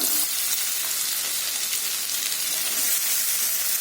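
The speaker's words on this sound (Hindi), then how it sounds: "आलू को मैं फ्राई कर लेती हूँ" Chopped potatoes frying in hot oil in a kadai, a loud, dense, close sizzle with bright crackling hiss that holds steady throughout.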